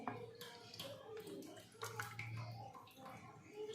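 Water splashes and sloshes as sliced potatoes are stirred and rinsed in a bowl, soft close handling sounds, fairly quiet.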